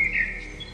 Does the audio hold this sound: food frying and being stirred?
no